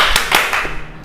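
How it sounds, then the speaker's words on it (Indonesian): A talk show audience gives a brief burst of applause, just a few quick, scattered claps lasting about a second. "ya tepuk tangan."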